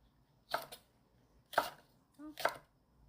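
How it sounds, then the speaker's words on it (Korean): A knife chops red chili peppers on a cutting board in three crisp, separate cuts, close by, with a faint short voice between strokes. "홍고추는 씻어서 이렇게 잘 갈리도록 잘라줄게요"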